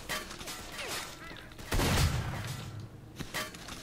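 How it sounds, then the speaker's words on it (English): Gunfire in the video game S.T.A.L.K.E.R. (L.U.R.K. mod), scattered shots and a louder thumping burst near the middle, mixed with other game sounds over a few seconds. "How are they still shooting me?"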